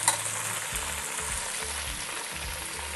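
Vegetables and capsicum sizzle and fry steadily in a hot pan while being stirred for a vegetable dum biryani, with a continuous, close sizzle and soft scraping stirs throughout.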